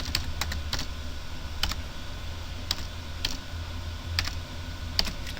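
Keystrokes on a computer keyboard as a page name is typed, a steady scatter of crisp clicks in irregular bursts over a low hum.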